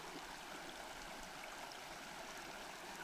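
A flood-prone creek flows steadily, a soft continuous rush and gurgle of water that stays even and fairly quiet, with no talking.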